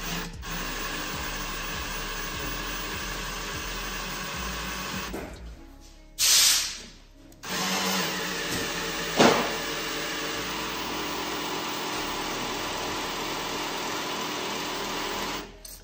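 A power tool spins to prime the oil pump of a small block Chevy engine, giving a loud, steady whirring drone for most of the time. It cuts out briefly twice with short clunks between runs, and no one talks.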